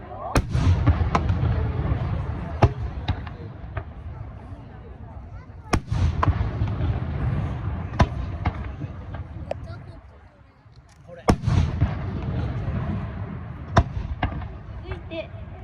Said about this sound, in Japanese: これね、作るのがかなり難しい花火だそうですよ